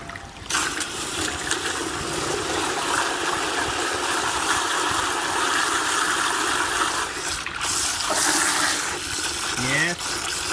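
A 24V brushless DC pump pushes water with a continuous gushing, trickling flow over a low hum, close and steady with brief changes near the end.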